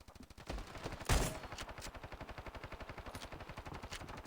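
Rapid automatic gunfire in the video game Standoff 2, a sharp opening burst followed by a long steady rattling stream of shots, loud and close with no talking.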